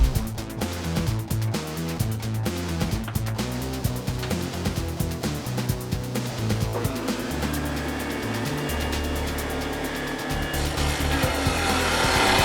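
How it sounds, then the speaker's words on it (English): Angle grinder with a masonry wheel dry cutting travertine tile for a pizza oven build, a loud, close, continuous whine and gritty rasp that changes in tone as the blade bites through the stone, with no speech. "I want to show you this cut in real time because it is pretty impressive how fast the grinder with the masonry wheel in a dry cut cuts"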